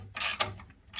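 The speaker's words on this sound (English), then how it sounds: "and tighten up the 4 bolts" A ratchet clicks as it tightens the bolts holding a treadmill motor in place, giving a few close, quick bursts of mechanical clicking with short pauses between them.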